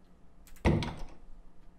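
A door shuts in the House Flippers video game with a single solid thunk, a short close impact that fades quickly into quiet room tone.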